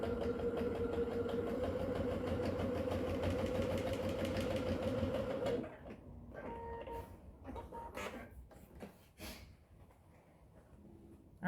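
A sewing machine stitching a bag's lining to the bag, a steady mechanical whir for about five seconds, then stopping, leaving scattered handling clicks and rustles.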